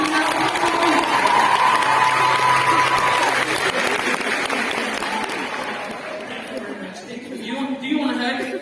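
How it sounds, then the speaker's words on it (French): An audience at a live concert show claps loudly and continuously, then the applause tapers off, with crowd chatter and a voice speaking over the fading claps near the end. "on peut l'applaudir"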